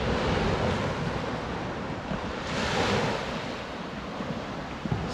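Surf washes up onto the sand at Panama City Beach, a close, steady rush of water swelling and receding, mixed with wind buffeting the microphone.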